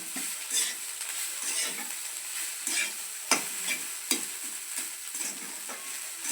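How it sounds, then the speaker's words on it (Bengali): Flattened rice (chire) stirred in a frying pan with a spoon, a steady hiss of light frying under repeated scraping strokes and a few sharper clinks of the utensil against the pan, with no voices. "নেড়ে চেড়ে রাখবো। দেখো, এবার আমি চিড়েটা ঢেলে দিলাম"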